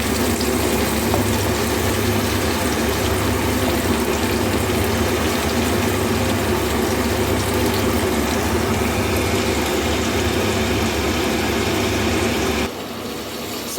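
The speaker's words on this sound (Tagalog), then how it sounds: "malapit na rin kumulo yung ating tubig sa takore" Water heats in a kettle close to boiling, giving a steady, loud rumbling roar with no break, then cutting off abruptly near the end.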